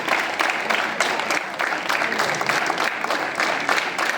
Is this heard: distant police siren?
no